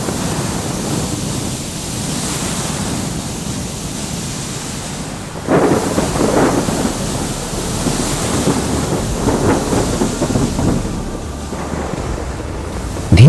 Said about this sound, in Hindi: धीरे धीरे तूफान और तेज होता जाता है और जहाज डूबने लगता है।